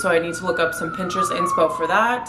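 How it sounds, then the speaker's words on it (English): Emergency vehicle siren wailing down a New York City street, a loud sweeping tone that falls steadily under a woman's close, continuous talking. "Sorry for the sirens."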